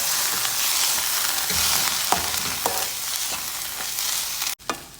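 Horse gram roasting in a hot pan for a Kerala thoran, a steady dry sizzle with scattered crackles and occasional scraping stir strokes, close and continuous, with no voices.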